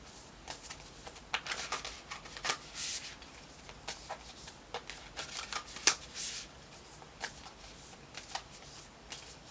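Tarot cards are shuffled by hand in a series of soft, quick riffling bursts and flicks, fairly faint and close, with no talking.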